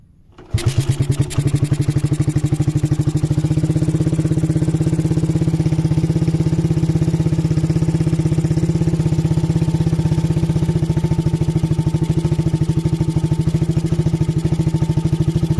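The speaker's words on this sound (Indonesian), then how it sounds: "Dan untuk silencer knalpot ini oke, langsung saja saya akan menghidupkan mesinnya." Suzuki Satria FU motorcycle with a silencer exhaust and a standard 62 mm FIM piston starts up and settles into a steady, loud, close idle that runs alone throughout.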